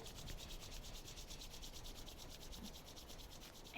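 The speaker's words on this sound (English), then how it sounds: "we bring our hands together in front of the heart and rub our palms together. Create a little friction." Palms rubbed briskly together during a meditation, a steady soft swishing friction that runs without pause for several seconds, quiet and close with no voices.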